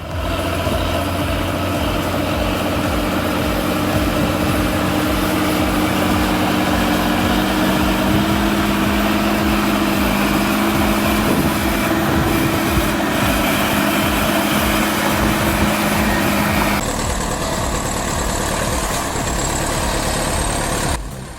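A bulldozer's heavy diesel engine runs steadily and loud for the whole stretch, a constant low rumble with a slight change in tone partway through, as if shifting gears, set in snowy mountain terrain.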